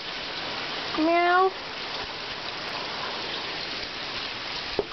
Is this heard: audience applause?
no